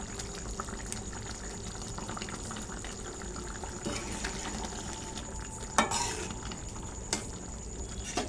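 A raw banana curry fries quietly in a pan after garam masala goes in, a soft low sizzle under scraping spatula strokes, with a few louder clinks and scrapes near the end and no speech.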